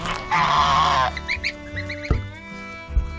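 Several baby geese in an indoor brooder honk and squawk close up in a short burst of overlapping, nasal calls, with a few soft thumps in between.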